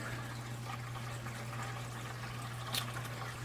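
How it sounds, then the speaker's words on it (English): Water drains from a low-budget saltwater fish tank as a steady, continuous liquid trickle over a constant low electrical hum, with one brief splashy burst near the end. "Then you just let the water empty."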